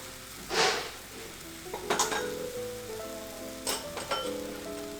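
A pan sauce caramelizing in a restaurant pan, a soft steady sizzle broken by a louder hiss burst early on and a few clinks of utensils against the pan, with no voices.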